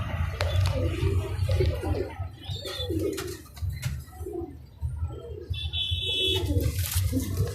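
Pigeons of a mixed flock, including cock birds, give repeated low coos at close range along with a few brief chirps and a faint high electronic tone, with no talk.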